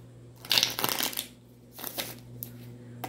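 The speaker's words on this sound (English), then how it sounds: "Okay, so I'm gonna shuffle real quick." Quick bursts of tarot card shuffling, a riffle followed by a few softer shuffles, close up with a faint steady hum behind.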